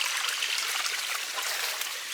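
Creek water trickling steadily over rocks, a close, continuous bright burble with no voices.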